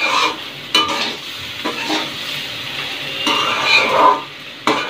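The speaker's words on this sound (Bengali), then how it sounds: "এবার আমি সবগুলো দিয়ে ভালোভাবে চালটার সাথে মিশিয়ে নেব।" Gobindobhog rice being stirred with spices in a pan for pulao, a close, loud, steady scraping and sizzling with repeated clanks of the spoon against the pan, no talking.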